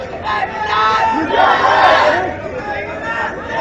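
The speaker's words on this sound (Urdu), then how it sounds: "نعرے مت مارو، کنڈیشن کا وائلیشن ہوتا" Crowd at an outdoor political rally shouting slogans together, a dense wall of overlapping voices that swells to a loud peak midway and then eases slightly, with no single speaker standing out.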